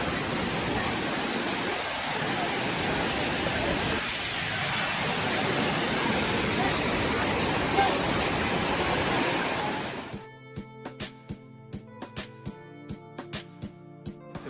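Steady roaring rush of Dunn's River Falls, loud and continuous for about ten seconds, then cutting off abruptly to quieter ticking sounds.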